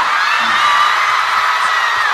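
A concert crowd at a world tour show in Guangzhou cheers and shouts in a continuous roar, with high whoops and screams riding over the dense, loud wall of voices throughout.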